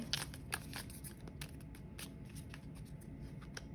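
A deck of tarot cards is shuffled during a card reading, a steady run of soft papery riffles and flicks with sharper slaps at the start, close and fairly quiet, no voices.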